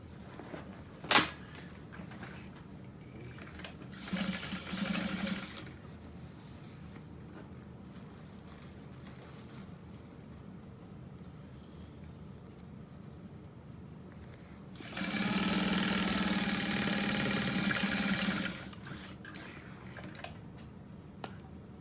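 A sewing machine stitches closed the lining of a structured tote bag in two short bursts, a brief run early on and a longer steady whir later, with quiet handling clicks in between.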